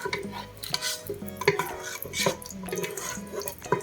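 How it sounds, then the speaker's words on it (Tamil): Cardamom, dry ginger and cloves being stirred in a metal pot: a close run of scraping and ringing spoon-on-pot clinks in an uneven rhythm, with no voices. "அப்படியே கிண்டி விட்டுருவோம்"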